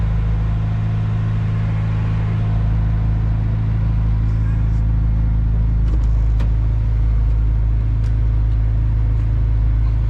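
Steady loud road rumble inside a moving car, with a tire rubbing against the fender liner as a constant low drone and occasional faint scrapes under the engine and road noise.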